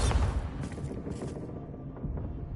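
A Bombarda blasting spell cast in a Harry Potter wizarding video game: a loud booming burst with crackling debris right at the start, decaying into a rumbling tail.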